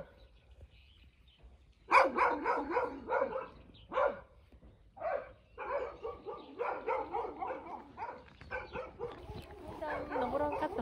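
A white dog barks in repeated bursts at moderate distance, with some quieter yips between the louder barks.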